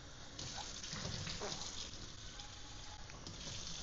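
Water streams steadily from a faucet into a SodaStream bottle, a continuous hissing gush with faint splashing, fairly quiet and alone.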